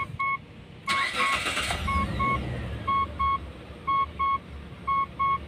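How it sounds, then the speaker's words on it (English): A Mitsubishi Pajero engine cranks and catches with a loud burst, then idles steadily while a repeating double beep chimes over it. "Starting, okay, it's already starting the engine."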